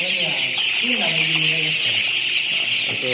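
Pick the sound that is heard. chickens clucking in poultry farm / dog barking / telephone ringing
chickens clucking in poultry farm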